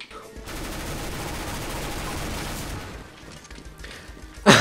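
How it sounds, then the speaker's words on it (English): Rapid, sustained gunfire in Counter-Strike: Global Offensive on the zombie escape map ze_mario_tower, a dense barrage running for about three seconds, easing off, then a sharp loud burst at the end. "He turns around just to shoot his own team."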